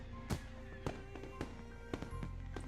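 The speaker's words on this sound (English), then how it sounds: "Hanako's gaze still firmly fixed on the technicolor fireworks bursting overhead" Fireworks bursting overhead in the visual novel Katawa Shoujo, a series of soft, evenly spaced pops and thuds about every half second, faint and distant under a steady background murmur.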